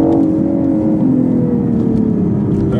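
A 2015 BMW i8 hybrid sports car's engine drones loudly from inside the cabin on a racetrack, holding a steady rising whine with a faint pop near the end and no talking.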